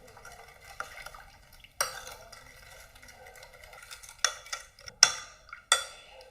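A spoon stirs sugar into hot water in a glass or pot for homemade lemon soda. The clinks are light and irregular, and several sharper taps come near the end over a quiet background.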